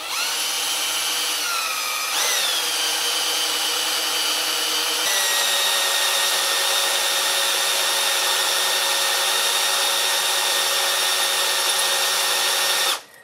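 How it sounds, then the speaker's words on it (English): A power drill whines steadily and loudly, its pitch shifting slightly as it bites into a broken Stihl chainsaw bar stud, running continuously before stopping abruptly at the end. "Now I'm going to start drilling."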